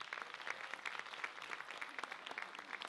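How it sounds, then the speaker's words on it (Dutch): Steady applause from an audience at a recitation contest, a dense patter of many hands clapping at a moderate distance, continuous throughout. "Een extra applaus voor Meike Moren."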